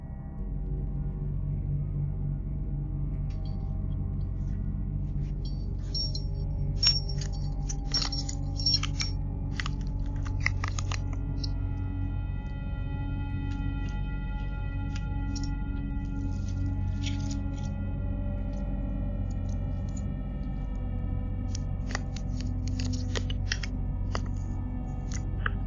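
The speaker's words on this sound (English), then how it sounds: "She is seen trying multiple keys in the door and even searching for a hidden one." A woman tries several keys in a front door lock, producing scattered faint metallic clicks and jangles over a steady low hum from a doorbell camera, with no talk.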